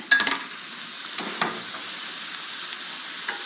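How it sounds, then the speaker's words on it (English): Ratatouille-stuffed summer squash stirred in a pan, a steady close sizzle with a few soft scraping strokes at the start and scattered faint clicks, no talking. "I'm gonna give this a quick stir."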